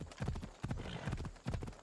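Rhythmic clip-clop of horse hooves at a gallop during riding in the video game Assassin's Creed Odyssey, four bursts of hoof beats close and fairly loud with no talk.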